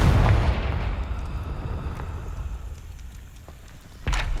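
A Confringo spell explodes in the game Hogwarts Legacy: a loud, booming blast at the start that rumbles and fades, then a sharper burst near the end.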